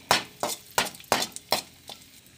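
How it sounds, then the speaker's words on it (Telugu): A spoon knocks and scrapes against a pan while cashews and raisins fry in ghee, giving about six sharp metallic clinks at an uneven, unhurried pace, close up and with no talking. "అందులో మనం కొద్దిగా నెయ్యి అనేది వేసుకుని ఈ యొక్క జీడిపప్పు కిస్మిస్ని మనం వేయించుకోవాలి"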